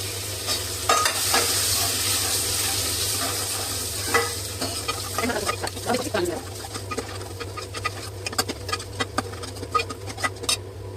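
Curry leaves and chopped garlic frying in hot oil with a steady sizzle while a spoon stirs the pan, a voice talking briefly and birds calling faintly in the background.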